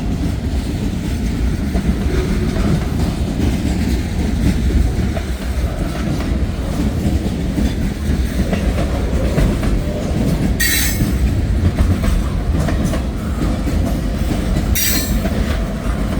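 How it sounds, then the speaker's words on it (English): A long freight train of autoracks and propylene glycol tank cars, pushed by a GP38-2, rolls steadily past on a cold, windy morning in Hamilton. The loud, continuous wheel rumble and clatter carry two brief, high wheel squeals. "That's one long train."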